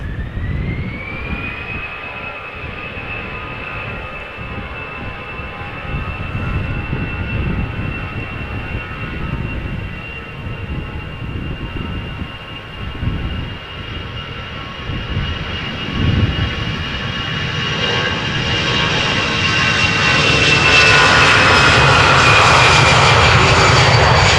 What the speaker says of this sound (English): the Air France is now spooling up